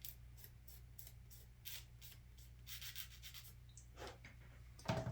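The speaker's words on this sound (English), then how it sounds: "let's get this sanded down" Fine sanding of a plastic 1/35 scale Willys MB jeep dashboard, heard as repeated soft rubbing strokes, close and quiet over a low steady hum.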